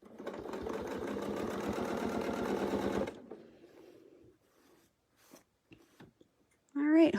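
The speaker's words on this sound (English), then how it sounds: "And then I'll go ahead and start sewing." A sewing machine stitches a quilt in a fast, steady run of needle strokes for about three seconds, then stops; a few quiet clicks and handling noises follow before a voice briefly speaks near the end.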